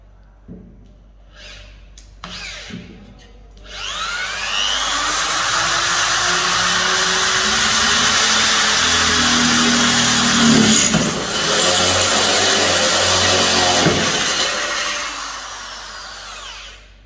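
A 750W INGCO impact drill spins up and runs loudly for about ten seconds at a steady high whine, then winds down. Quiet clicks come before and after.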